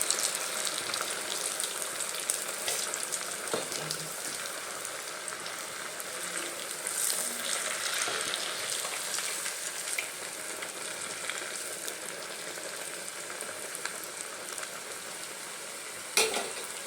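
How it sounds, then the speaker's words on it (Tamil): Vegetable vadas fry in hot oil with a continuous crackling sizzle that stays steady and close throughout, with occasional small pops and no talking. "இப்போ வந்து ஒவ்வொரு வடையும் நம்ம திருப்பி விட்டுக்கலாம்"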